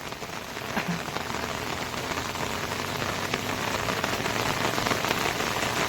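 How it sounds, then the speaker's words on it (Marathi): Steady rain pours down without pause during a flood that has covered the road in Kuhe Chimbipada, Bhiwandi, a dense, even hiss of drops on wet surfaces filling the whole stretch with no voices. "सकाळपासून कंटिन्यू पाऊस चालू आहे"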